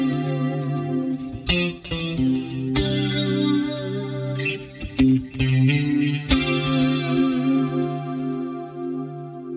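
Clean electric guitar chords are strummed with a shimmering chorus effect through a Line 6 Helix, an 80s-style rhythm tone, several strikes ringing out and sustaining, played alone.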